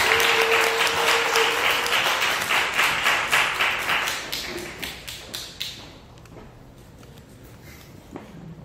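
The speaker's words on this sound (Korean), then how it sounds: "우리 큰 박수로 환영하도록 하겠습니다" An audience at a church workshop claps steadily in warm applause for several seconds, then the clapping thins to a few scattered claps and fades away.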